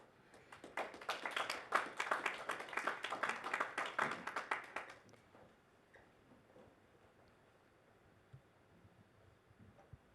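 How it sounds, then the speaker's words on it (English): Audience applause for conference panelists at an international MLS forum session: a dense burst of clapping for about five seconds, then it fades out into quiet room tone with a few scattered claps. "if we could please give a round of applause for Denee and the panelists for this session"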